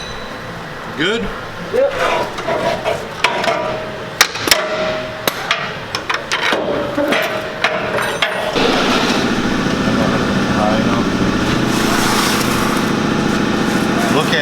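Peterbilt truck engine, first start in over three years: metallic clanks and knocks with brief talk, then the engine abruptly catches and runs loud, close and steady.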